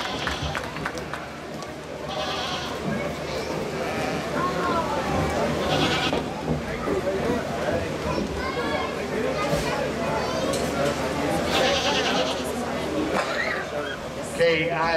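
Goats bleating amid a busy livestock show arena, with steady crowd chatter and an announcer's voice running throughout as repeated animal calls rise above the din.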